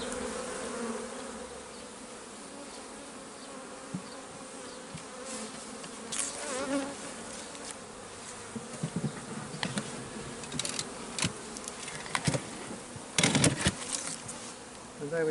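Honey bees buzz steadily around an open beehive while a colony is being built up, a dense, close hum that swells with sharper passes of individual bees flying near, with no talk.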